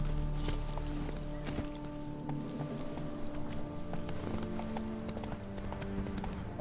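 Horse hooves clop in a steady rhythm within The Witcher 3 game, faint and mixed with game ambience and background tones, with no talking.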